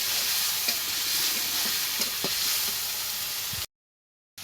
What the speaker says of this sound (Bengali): আর দিয়ে দিব রসুন বাটাটা, দিয়ে আমি সুন্দর করে মশলাটা একটু কষাই নেব।